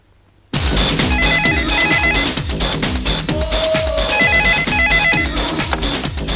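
An indoor telephone bursts into loud ringing after a quiet moment, its bell repeating in a quick, steady rhythm close by with no pause. No one speaks over it.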